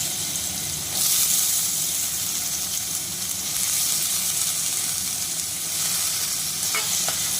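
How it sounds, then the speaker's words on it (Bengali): Potato pieces frying in hot oil in a pan after whole spices go in make a loud, continuous sizzle with surges of crackle, heard alone without any talking. "এবার আমি আলুটা দিয়ে দিলাম তেলের মধ্যে"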